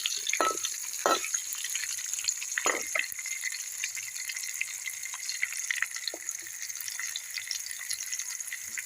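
Chopped onions and onion greens fry in a pan while being stirred, making a soft, low sizzle broken by a few sharp scraping strokes near the start, with no voices.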